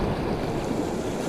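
White water on the Truckee River in California rushes in a steady, broadband roar close to the microphone, constant and unbroken with no voices.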